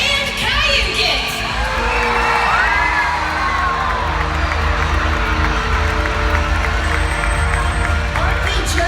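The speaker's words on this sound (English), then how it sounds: "let me hear you cheer for Tuar and Kayukit" Large crowd at a killer whale show in an outdoor marine park arena cheering, whooping and shouting loudly, with children's high voices in the mix and a steady roar throughout.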